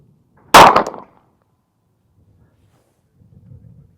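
A single sharp report from a Sig P365 pistol fired at a target 50 yards away, loud and abrupt with a quick decay, followed by near silence and faint low rumble.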